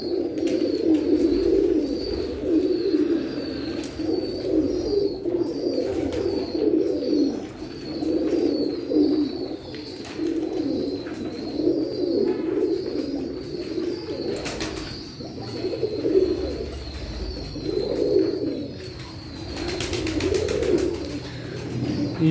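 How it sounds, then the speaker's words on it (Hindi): A flock of pigeons, among them a Magar pigeon, coo continuously at feeding time, with overlapping low rolling coos pulsing in steady waves, close and fairly loud, alongside faint chirps and occasional wing flutters. "ये एक मगर कबूतर है।"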